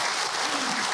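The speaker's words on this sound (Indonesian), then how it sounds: "tepuk tangan Ibu untuk Ahilman" Audience applause at an Islamic religious lecture, a steady dense wash of clapping filling the whole second without a break.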